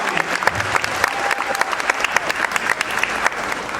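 Audience applause at a corporate donation event, a steady patter of many hands clapping together for several seconds, close and lively, with a faint tonal whistle running through the middle.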